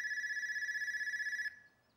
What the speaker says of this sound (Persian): صبح تا حالا همش این تلفن زنگ میخوره